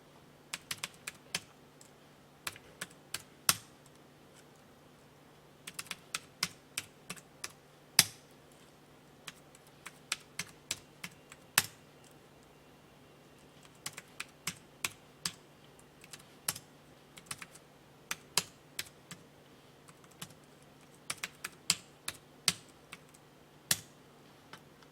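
Steady computer keyboard typing in bursts of quick keystrokes with short pauses between, close and clear over a faint low hum, no voices, as date and quantity figures are entered into an Excel spreadsheet.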